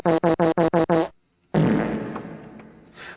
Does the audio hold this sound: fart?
yes